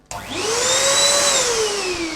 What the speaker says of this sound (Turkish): Elektrik süpürgemizi çalıştırdığımız zaman